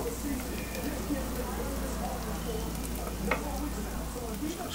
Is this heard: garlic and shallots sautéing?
yes